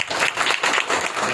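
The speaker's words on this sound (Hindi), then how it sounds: "अब जो सबसे विशेष, उनके लिए आप लोग बहुत जोरदार ताली बजानी है" An audience at a devotional celebration applauds loudly, with steady, dense clapping that carries through the whole moment.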